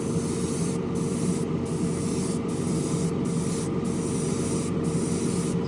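Steady, close hiss of an airbrush spraying paint on a model car, continuous and even for several seconds with no talk.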